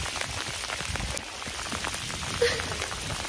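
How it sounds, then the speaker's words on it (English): Steady rain patters outdoors in a Scottish coastal setting, a dense, even hiss of drops hitting surfaces nearby, with one slightly louder spatter partway through and no talk. "Here comes the rain."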